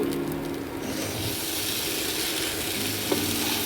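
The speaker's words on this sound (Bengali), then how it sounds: "এবার এটাকে আমি ভালো করে একটু নেড়ে দেবো।" Sabudana khichdi with sugar and salt stirred in a hot pan, heard as a steady close sizzle with soft scraping of a spoon throughout and no gaps.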